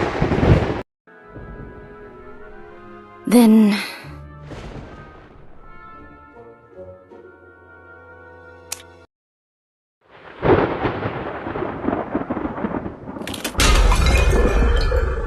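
Cracks and rumbles of thunder on a stormy night in the game Identity V, heard amid breaking and clinking glass, with a loud sharp crash and a heavy closing rumble, split by a brief silence.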